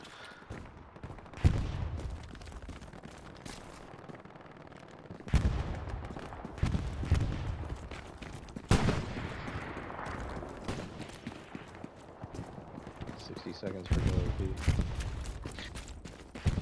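Machine gun fire in a war video game, several loud bursts of rapid shots separated by quieter stretches, with distant gunfire and rumble filling the gaps.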